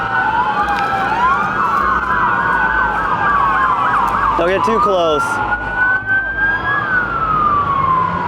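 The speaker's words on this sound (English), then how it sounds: "Damn, you literally can hear the sirens." Fire truck and police sirens wail and overlap continuously during a Los Angeles wildfire, loud and fairly close, with a nearby voice speaking briefly over them.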